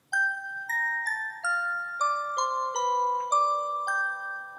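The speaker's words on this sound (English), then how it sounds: "especially paired with this bell loop right here, this synth bell" A future bass synth bell loop plays alone, bright tonal chimes stepping through a repeating sequence of notes, each ringing briefly before the next.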